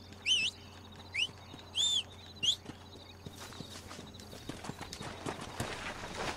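A horse in the video game Red Dead Redemption gives four short, shrill neighs, then its hoofbeats follow as a soft, irregular clip-clop, fairly quiet and without talk.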